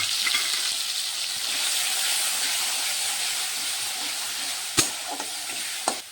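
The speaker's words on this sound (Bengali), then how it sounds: "তেল গরম হয়ে গেছে। আমি এখন নারকেল বাটা, সর্ষে বাটা আর কাঁচা লঙ্কা বাটা এটা আমি এখন দিয়ে দিচ্ছি তেলের মধ্যে।" A paste of coconut, mustard and green chilli sizzles in hot oil, giving a strong, even hiss that holds steady, then a couple of sharp clanks from utensils near the end.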